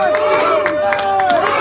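Crowd cheering and shouting for the winners at the King & Queen of the Roads 2017 road-bowling event, a dense, lively roar of voices with bursts of cheers, close and steady throughout.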